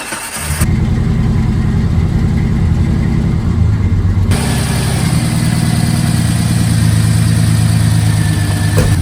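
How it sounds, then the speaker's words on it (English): Jeep Comanche Eliminator engine idling steadily at about 800 RPM, a loud, even, continuous mid-low rumble with no voices over it. "Steady idling at about 800 RPMs."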